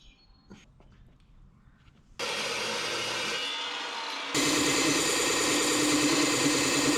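Metal stock for a hinge on a 1984 Toyota dually dump bed project is cut with a power tool that starts abruptly after a quiet start, a loud steady grinding whine that grows harsher and louder partway through.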